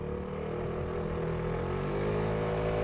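A Vespa GTS 310 80th Anniversary scooter launches hard, its engine drone loud and steady, rising slightly in pitch as it pulls consistently through nearly three seconds of acceleration with no talk.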